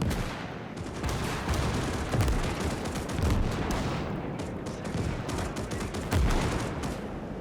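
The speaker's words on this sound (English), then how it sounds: "we got mortars and artillery landing close" Artillery and mortar shells land close in a trench battle between infantry and mechs in the Winds of Iron 1920+ mod, a dense, continuous barrage of overlapping blasts and booms with heavier impacts standing out, with no voices.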